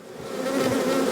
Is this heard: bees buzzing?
yes